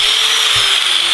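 An angle grinder runs steadily at close range with a continuous high-pitched whine and no break, nobody speaking over it.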